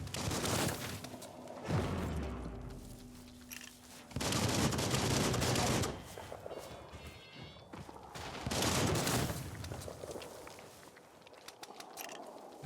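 Gunfire from the player's gun in the Biomutant video game, heard as repeated bursts of loud shots separated by quieter gaps, with a low rumbling game background underneath.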